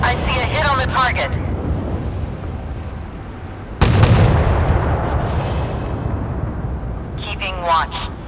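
A warship's main guns fire in the naval game Force of Warships, aboard the upgraded battleship USS California: one loud booming blast with a long rolling rumble, with clipped game voice callouts before and after.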